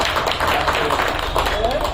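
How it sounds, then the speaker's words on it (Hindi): A crowd at a political workers' gathering breaks into loud, dense applause that fills the whole two seconds at a steady level, with voices mixed in. "भाई आने के लिए एक बार जोरदार तालियों से स्वागत करें।"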